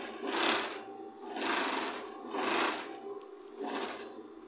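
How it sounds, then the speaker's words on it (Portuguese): Sewing machine stitching fabric strips for a rag rug, four bursts of rapid whirring stitching separated by short pauses, close and moderately loud with no speech. "vou passar aqui a minha costura"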